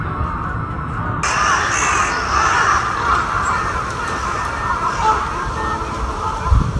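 Many crows caw repeatedly and loudly, a dense flock calling over one another with a steady background hum.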